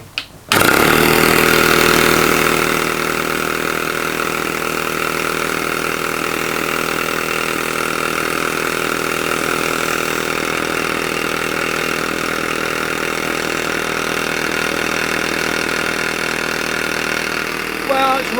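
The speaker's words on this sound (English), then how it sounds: "we are going to have a go at seeing if we can get it to run on air" A scratch-built model overtype steam engine starts up on compressed air from a small compressor and runs at a steady, loud mechanical hum with a buzzing, rapid beat, holding almost unchanged for the whole stretch.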